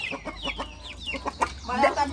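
Backyard chickens and a rooster clucking and squawking in short agitated bursts at close range, fairly loud, with a busy rising flurry near the end.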